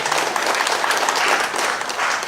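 Audience at a political conference plenary breaking into applause, a dense, loud wash of clapping that holds steady for the whole stretch without any voices on top.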